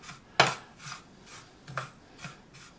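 Dill, coriander and pepper stirred together for Svan salt, a handful of soft scraping and clinking strokes against a bowl, close and irregular, with one sharper scrape at the start.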